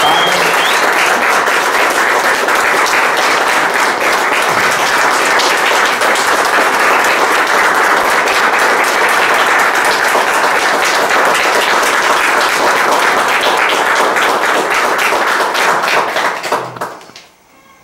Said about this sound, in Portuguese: Vamos dar uma salva de palmas para o nosso Pai.